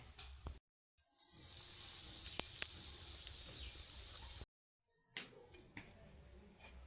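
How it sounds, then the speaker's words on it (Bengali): Burger buns sizzle faintly while toasting on low heat in a pan, with a soft steady frying hiss. The hiss breaks off twice into silence, and a few light clicks and taps sound over it. "এগুলোকে আমি হালকা আঁচে সেঁকে নেব।"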